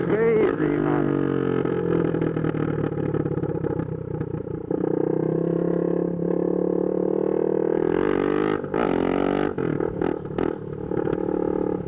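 A straight-piped 2022 Husqvarna Svartpilen 401 motorcycle revs loudly and close, its engine note rising and holding, then a few sharp blips near the end, with some talk over the noise.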